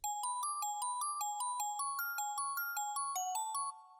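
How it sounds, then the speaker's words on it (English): A bright synth bell from a stock plugin plays a rapid arpeggio in a drill beat, notes stepping up and down in a steady even rhythm before fading out. "I arpeggiated this bell sort of sound."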